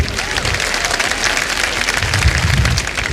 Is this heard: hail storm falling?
no